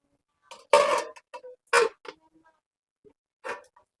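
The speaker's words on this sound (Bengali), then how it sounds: "ফোটার জন্য এবার আমি একটা ঢাকা দিয়ে দেবো" A metal lid set onto a cooking pot while fish curry simmers in a home kitchen, making a few distinct clattering clinks and taps in a quiet room, with no talking.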